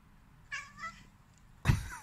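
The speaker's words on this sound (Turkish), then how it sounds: "Anne diyen kedi." Short cat meows: a faint two-part mew followed by a louder, sharper meow that sounds like the word "mom", close and alone in a quiet room.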